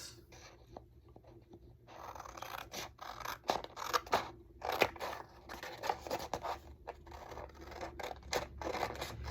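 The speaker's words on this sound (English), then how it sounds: "So let me cut these 2 pieces." Scissors snip through two pieces of paper for a junk journal page, in a run of close, crisp cuts with brief paper rustles and scrapes between them.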